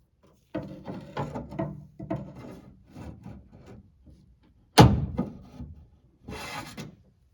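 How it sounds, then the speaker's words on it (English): Plastic clip popped off the door lock actuator rod inside a 2007-2013 Toyota Tundra front door, with scraping and rubbing of tools and parts, then one sharp loud snap near the middle followed by short rattles. "So we need to pop that clip off to free that rod."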